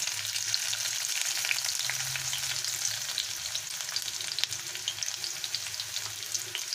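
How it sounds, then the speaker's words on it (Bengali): Chopped onions sizzle steadily in hot oil with a cinnamon stick, a continuous bright crackling hiss with occasional soft stirring scrapes, close and even throughout. "এবারে আমি 2টো পেঁয়াজ কুচিয়ে রেখেছিলাম দিয়ে দিচ্ছি।"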